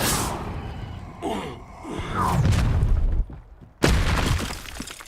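An Incendio fire spell erupts in the game Hogwarts Legacy, a loud roaring blast with a swelling whoosh, then a sudden second burst after a brief lull, all up close amid combat noise.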